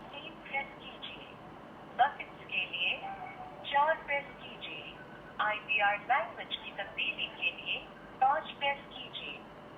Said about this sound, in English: I'm gonna dial a number first and let you know how this performs.